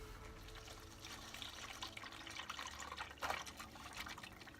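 Engine oil from a 2019 Subaru WRX drains into an oil pan in a steady, faint trickling pour, with a brief louder splash partway through.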